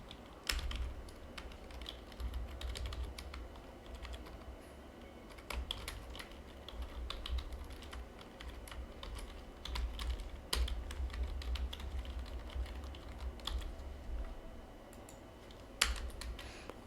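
Fingers type code steadily on a computer keyboard, a quiet, continuous patter of key clicks with occasional sharper taps, close by and with no talking.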